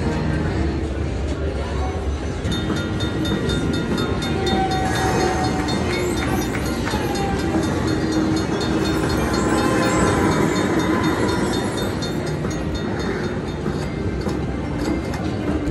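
A rumbling train sound effect in a slot machine game's work train feature plays continuously and loudly, with rolling clatter and occasional chimes underneath, while someone talks over it.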